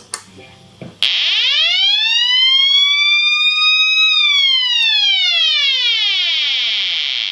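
After a brief click, a loud electronic siren tone from a Shin-ei Shaftesbury Squall guitar pedal sweeps slowly up, holds, then glides back down, sustained and piercing.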